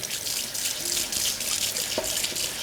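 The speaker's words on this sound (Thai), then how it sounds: "โดยใช้ แปรงขัดนะครับ ขัดแบบน้ำไหลผ่านครับ" A daikon radish is scrubbed with a brush under a running tap, giving a steady close rush of water with brief scraping bursts over it and no talking.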